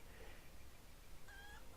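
A rooster in a video game, crowing at Brownlock's farm: one short, faint, strained crow lasting under a second, heard over a soft background hiss.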